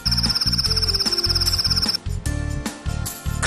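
A cricket gives a rapid, evenly pulsed high chirp for about two seconds, steady and fairly loud over a bouncy music bed that continues after the chirping stops.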